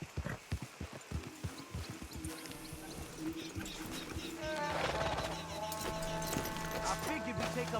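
A few hoofbeats from horses in Red Dead Redemption 2 slow and stop near the start, then give way to steady game ambience with faint animal sounds.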